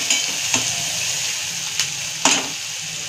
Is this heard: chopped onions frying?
yes